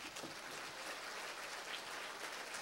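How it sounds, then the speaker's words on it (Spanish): Steady applause from a church congregation fills the space, dense and even, heard at a modest distance without talking over it. "Más fuerte, más fuerte ese aplauso para él"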